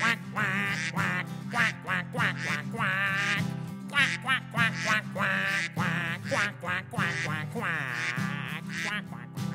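A voice imitates a duck with a long run of rhythmic, nasal quacks, each one short and clear, sung over music during a children's song about Tu Bishvat.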